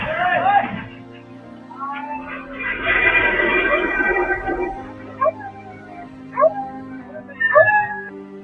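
Dog on a road, run over by a truck, crying out in sharp yelps and whimpers, with a longer burst of pained yowling in the middle and short cries after it, close and loud.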